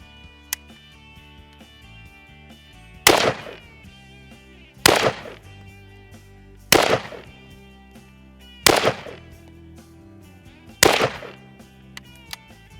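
Five sharp, loud rifle shots from a PSA AK-104 ring out at steady intervals of about two seconds, each with a short echoing tail, over quiet outdoor background.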